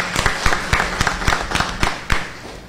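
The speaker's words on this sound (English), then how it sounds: "So a round of applause to Mr. Garza as well." Scattered applause for Mr. Garza at a school board meeting, a handful of sharp, distinct claps in a loose, uneven rhythm that fades out after a few seconds.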